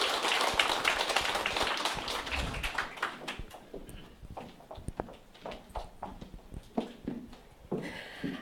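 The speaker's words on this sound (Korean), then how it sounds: "여러분 큰 박수 부탁드립니다" Audience clapping to welcome a speaker at a company lecture, loud and dense at first, then thinning into scattered individual claps and fading out.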